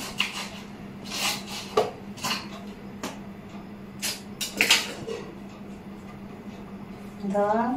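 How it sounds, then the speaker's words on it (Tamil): A kitchen knife cuts an onion on a cutting board, giving a series of distinct taps and scrapes spaced irregularly with short pauses, close and moderately loud. "நம்ம வெங்காயம் முதல்ல கட் பண்ணிக்கலாம் ஃப்ரெண்ட்ஸ்"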